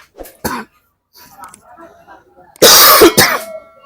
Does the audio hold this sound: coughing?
yes